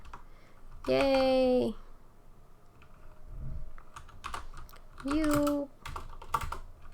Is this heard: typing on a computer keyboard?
yes